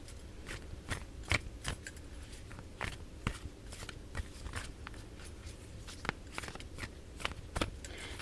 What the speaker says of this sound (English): We're going to shuffle our Healing the Mind and Spirit cards for our thought of the day.